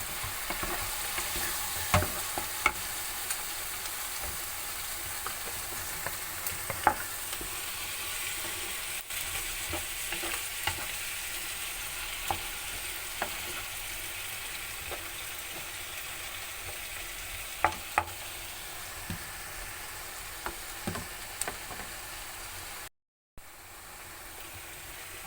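Tomato and pepper sauce for stick meat fries and is stirred in a pot, a steady sizzle running throughout with scattered clicks and scrapes of the spoon, fairly close, with a brief dropout near the end.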